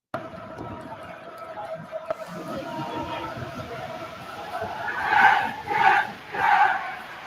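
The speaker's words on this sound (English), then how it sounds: "you could hear the crowd roaring" Away fans roar at a game, a crowd wash that builds into three loud surging swells near the end, with chatter mixed in underneath.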